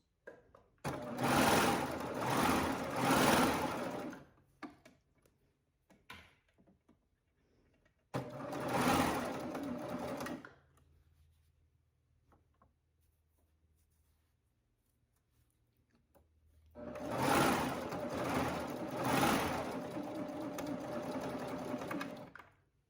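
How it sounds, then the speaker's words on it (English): A serger hums loudly in three bursts of stitching, one long, one shorter and a final long run, with quiet handling gaps between, while the side of a sleeveless scoop-back bodice is sewn closed. "So I'm going to go ahead and sew this side closed."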